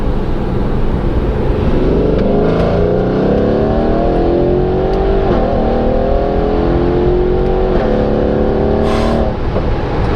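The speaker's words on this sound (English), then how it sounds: "Have a look how aggressive this car can accelerate." Mercedes GLC63s AMG Edition 1 SUV accelerating hard in Sport Plus mode: a loud, sustained engine roar climbing in pitch through several upshifts, heard from inside the cabin with no talking.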